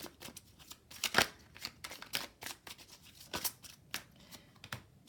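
Lenormand oracle cards being shuffled by hand, a soft run of papery riffles and slaps in irregular bursts, close and fairly quiet, with no voices.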